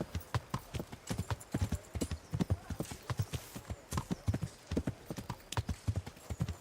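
Horse hooves clip-clopping in the medieval video game Kingdom Come: Deliverance, a fully upgraded horse trotting in a steady, close, rhythmic beat of crisp hoof strikes.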